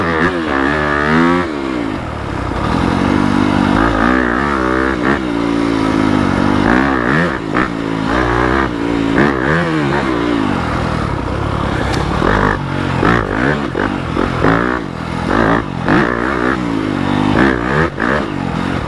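A Yamaha YZ250FX dirt bike with a 270 big bore kit and Hot Cams stage 2 cams revs hard and loud, with repeated throttle blips and sustained climbs under riding load, close and alone.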